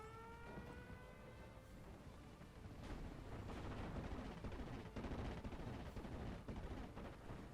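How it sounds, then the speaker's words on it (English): An ME-109 makes a strafing run in the World War II strategy game Steel Division: Normandy 44, with a whining dive followed by dense rattling gunfire and booming impacts, loud and continuous. "the ME-109 is still loitering, and it comes in and makes a strafing run on them"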